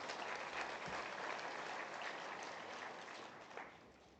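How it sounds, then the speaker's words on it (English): Sustained audience applause at an oil and gas industry conference, a dense, steady wash of many hands clapping throughout, fading slightly toward the end. "Let's give our Honourable Minister another warm applause"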